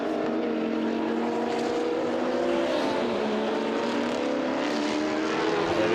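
A BMW GT4 race car at the Hungaroring circuit during a GT race, its engine a steady loud drone with shifting pitch as it passes, mixed with other engine noise throughout.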